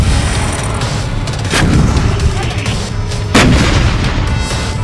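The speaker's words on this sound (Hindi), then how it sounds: "फिर तोपों से उन टारगेट पर निशाना लगाता है।" Israeli army artillery cannons fire during the Gaza war: two heavy, loud booms about two seconds apart, each followed by a rolling rumble over constant background noise.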